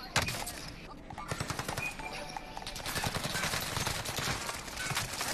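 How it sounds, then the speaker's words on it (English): A sniper shot strikes a player in a first-person shooter game, landing amid a dense, continuous barrage of rapid gunfire and impacts that crackles steadily throughout, fairly loud and close. "Oh fuck! I just got sniped."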